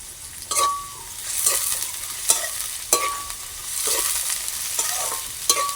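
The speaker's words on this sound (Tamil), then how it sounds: "அப்படியே நாங்கள் உள்ளியையும் சேர்த்து போட்டு வதக்குவோம்" Garlic and onions sizzle in a pan as they are sautéed for a tomato curry, a steady frying hiss broken by repeated sharp scrapes and clinks of stirring.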